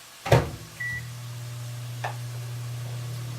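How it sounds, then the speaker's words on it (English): A click and a door thunk, then a steady low electric hum as a microwave oven starts heating, droning on evenly with a faint click partway through. "I'm going to put it in the microwave and heat it up so my cubes melt."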